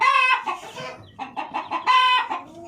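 A rooster crows loudly and close by in a chick-rearing brooder, two drawn-out calls with a short stretch of broken clucking between them.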